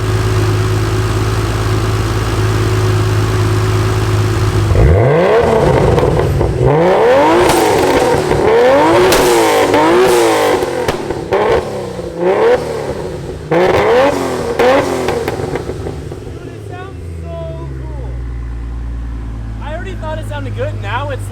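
A Barra-engined GT350 with a new exhaust idles with a low rumble, then revs hard in repeated loud, close bursts that rise and fall. Voices talk over parts of the revving before it settles back to idle.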